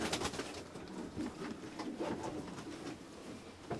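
A pigeon coos softly outdoors at a hunting spot in southwest France, the calls faint and partly buried in steady wind and background noise.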